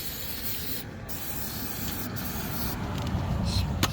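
Disc brake quiet is sprayed onto a car's rear brake pads, a continuous close hiss lasting several seconds with brief pauses, growing slightly stronger toward the end.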